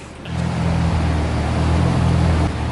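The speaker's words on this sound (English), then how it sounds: "The JZX is running." A Toyota JZX engine idles close by with a loud, steady low drone after it catches, holding an even rumble for a couple of seconds with no voices.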